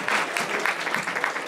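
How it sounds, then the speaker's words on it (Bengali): An audience claps steadily through a speech at the BanglaRongo 2024 event, a dense wash of many hands with no voices over it. "একটু জোরে করতালি"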